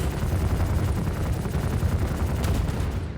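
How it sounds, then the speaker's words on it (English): Ship guns firing in the space game Star Citizen, a dense, sustained barrage of loud rapid shots and impacts rumbling continuously without pause. "when we shoot the ship, the guns will pierce through the armor, maybe even destroy part of the ship."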